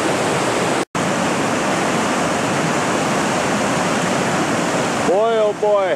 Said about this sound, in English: can't believe how high this is, how much water's running